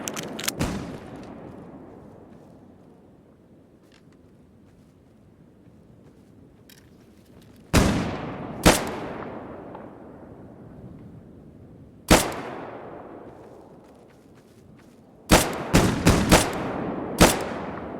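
Gunfire in the video game S.T.A.L.K.E.R. Gamma: loud, sharp shots with long echoing tails, first single reports spaced apart, then a quick cluster of several shots near the end, with no talking.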